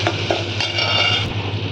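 Curry leaves dropped into hot oil for tomato rasam crackle and sizzle steadily, close up, with a few scraping stirs of a utensil against the pan and no talking.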